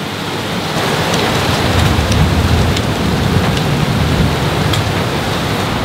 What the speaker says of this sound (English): We've got hail.